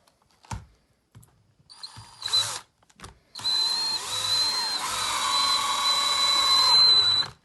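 A power drill drives a screw into a wall-mounted two-unit SUP or kayak storage rack: a few short clicks and bursts first, then a loud, sustained whirring drive that holds steady to the end.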